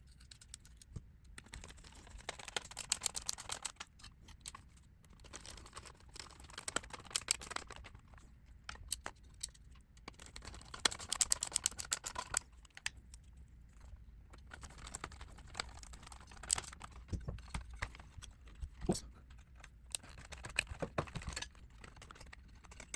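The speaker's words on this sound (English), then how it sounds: "All right, so I'm going to screw those on now." Small screws being driven back into the casing of a Sony CMT-EX1 stereo during restoration: faint, irregular ticks, clicks and scraping of a screwdriver, close but quiet, with no talk.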